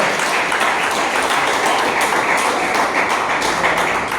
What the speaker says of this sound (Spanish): ¿Cuánto dan un aplauso a las mamás?